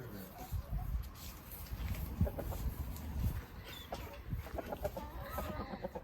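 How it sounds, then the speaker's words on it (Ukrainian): Chickens cluck softly in short bursts across the clip, moderately close, with quiet outdoor background and faint voices. "Пустило попастися трохи курей."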